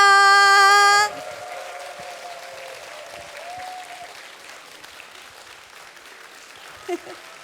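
Audience applause at a humanities talk concert, starting right after a loud musical tone and thinning to a scattered, fading patter.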